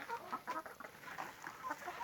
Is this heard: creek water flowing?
no